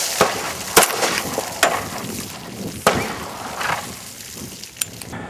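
Sharp gunshots at a rainy outdoor range, with one round fired at a jug. About six crisp cracks and impacts come at irregular intervals, fairly close, with rain-like hiss between them and no talk.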